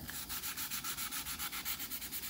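Rhythmic back-and-forth scratching of sandpaper on a carbon fiber flute, about six strokes a second, close and steady with no talking.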